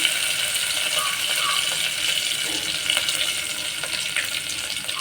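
Cumin seeds, followed by mustard seeds, sizzle and crackle steadily in hot oil for a Maharashtrian dahi kadhi, a continuous bright hiss with scattered small pops, close and fairly loud throughout.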